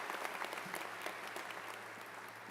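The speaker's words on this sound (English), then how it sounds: "So give yourself another round of applause." Audience at a fall graduation ceremony bursts into steady applause, dense clapping filling the hall at moderate distance for a few seconds without any voices.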